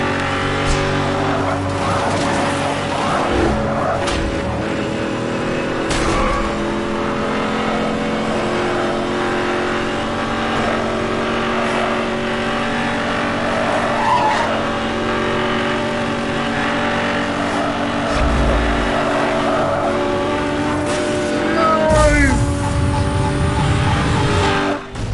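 Engines roar and rev continuously in Need for Speed Hot Pursuit Remastered, with steady loud racing-car drone, gear shifts and a brief skid-like burst near the end, no voices.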